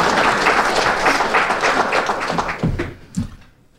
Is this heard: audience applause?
yes